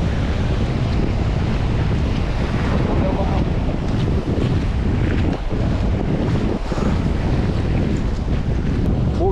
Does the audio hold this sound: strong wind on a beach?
yes